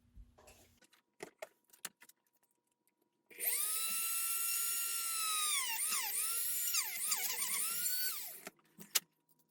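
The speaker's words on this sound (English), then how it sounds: "So I still have to drill a big hole here for the wiring to go down." A small high-pitched rotary drill whines steadily for about five seconds, its pitch dipping several times as it bites into a 1/350 scale USS Enterprise refit model kit, with light clicks before and after.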